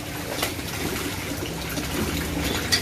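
Water pours out of a hand pump in a steady gushing stream, with a few louder splashes and a hollow knock near the end.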